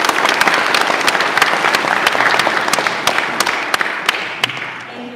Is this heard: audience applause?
yes